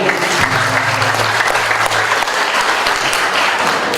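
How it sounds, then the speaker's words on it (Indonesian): Applause from an audience at an anti-corruption musical discussion event fills the room, a dense steady patter of many hands clapping at constant loudness throughout, with a low hum underneath and no voices. "Tepuk tangan buat Zulfiqar."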